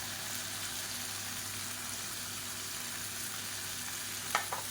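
Quiet, steady sizzle of coriander and drumstick leaves sautéing in a pan for chutney, with a low constant hum underneath and a brief utensil scrape near the end.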